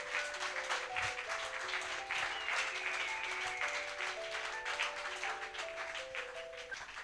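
A church congregation claps and cheers in praise of God, sustained applause filling the room steadily throughout, with sustained musical tones playing underneath.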